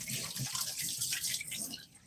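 Water runs from a kitchen tap while cake batter is being prepared, a steady, fairly faint splashing stream that tapers off near the end, with no talk.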